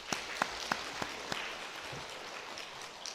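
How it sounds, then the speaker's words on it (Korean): A church congregation at an Easter thanksgiving service applauds, giving a handful of distinct claps at first that fade into a soft, scattered patter, fairly faint and distant. "우리 한번 하나님 영광의 박수 하십시다"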